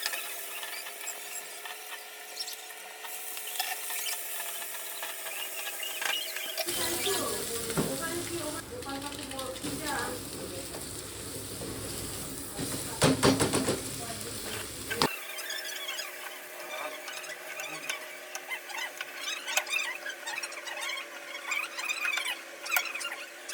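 Maggi noodles cooking in a pan, heard as a steady hiss with scraping and clinking from the middle of the clip onward, set against a constant faint background hum.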